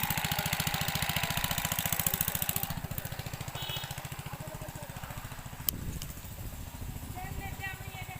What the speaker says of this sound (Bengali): গাইজ তো ফাইনালি মেশিন স্টার্ট করে দিলাম দেখো